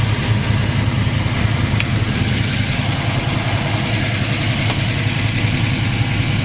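A 1967 Chevy Nova Super Sport with a built V8 of about 400 horsepower idles steadily, a loud, even low rumble with no change in revs throughout.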